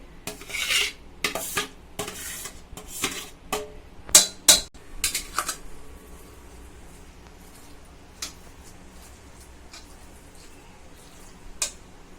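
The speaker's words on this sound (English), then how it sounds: "Now I'm mixing the potatoes and the vegetables." A spoon clinks and scrapes against a pot or bowl while boiled potatoes and vegetables are mixed, a series of sharp irregular taps early on that thin out to occasional knocks, with no talking.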